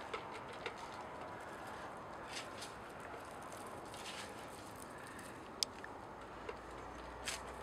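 A pigeon or dove coos softly near a bird feeder against quiet outdoor ambience, with a few faint clicks and light rustles scattered through.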